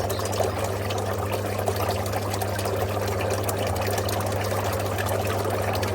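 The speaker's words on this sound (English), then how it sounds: "It's actually bubbling 3/4 of the way around at the moment." Water bubbles and trickles steadily in a koi grow-on tank, with aeration stirring the surface around most of the rim. A constant low hum from a pump runs underneath, and no one speaks over it.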